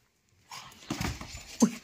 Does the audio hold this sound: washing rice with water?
no